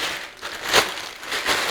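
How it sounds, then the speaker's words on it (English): A plastic baking bag crinkles and crunches over a buttered bowl of dough in a few close, loud rustling bursts. "I'm going with a trusty plastic bag"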